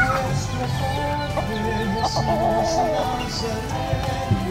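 Quality cockerels in a farm setting, clucking continuously in a mixed flock with a few short crowing calls rising above the chatter, close and fairly loud.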